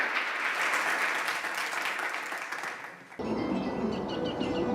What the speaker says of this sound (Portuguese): pues un aplauso para...